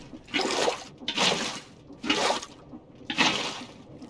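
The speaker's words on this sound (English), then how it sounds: "put the water there, falling water." Water pours down in bursts in Minecraft with the Create mod, four evenly spaced rushing splashes, fairly faint and with no talking.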